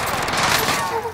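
Call of Duty Warzone gunfire lands as a short, loud rattle of shots in a one-second burst, close and fairly dense, with no talk over it.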